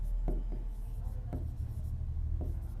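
Pen writing numbers on paper while a geometry problem on the opposite angles of a cyclic quadrilateral is worked through: a few short scratchy strokes at an uneven rhythm, close and clear over a steady low background hum.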